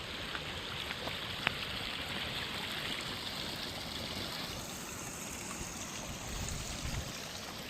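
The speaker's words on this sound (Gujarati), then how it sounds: "પાણીના ઝરણા વહે છે" Steady rushing water flows without a break from a waterfall stream, a broad continuous wash like water spilling over rocks, with no voices.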